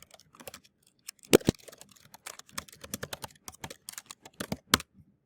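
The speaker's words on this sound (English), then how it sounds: "you would type your comment" Keys on a computer keyboard clatter in an irregular burst of close, crisp taps as a comment is typed, with short pauses between clusters and no voices.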